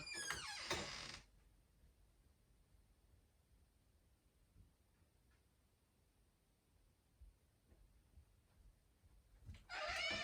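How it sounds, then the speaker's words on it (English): A squeaky door creaks loudly twice, once at the start and again at the end, with a long quiet stretch of faint room noise in between and no speech. "You're going to hear a squeaky door."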